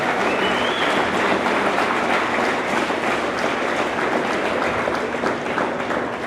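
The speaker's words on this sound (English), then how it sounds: "one more round of applause for Tiffany because she's the best it could be" A banquet crowd at a tennis academy gives a round of applause, a loud, continuous wash of clapping that holds evenly throughout with no voices over it.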